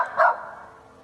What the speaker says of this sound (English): his dog continued barking at this dark furred entity